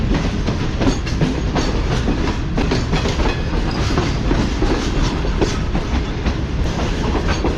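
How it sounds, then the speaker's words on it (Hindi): The Tezgam passenger train rolls along the rails just out of Multan, a loud steady rumble with a continuous clickety-clack of wheels over rail joints heard from on board. "तो मुल्तान को ट्रेन ने अलविदा कह दिया है।"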